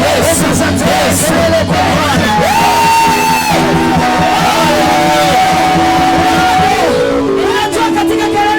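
A church congregation shouts and cheers for joy, a dense, loud crowd roar of overlapping yells and whoops that stays sustained throughout, with some voices rising above the mass.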